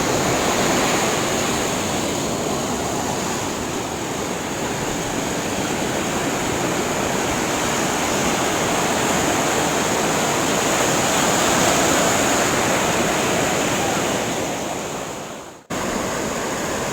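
Pacific Ocean surf rolls onto the beach at Santa Monica, a loud continuous wash of breaking waves mixed with wind buffeting the microphone, cutting out briefly near the end.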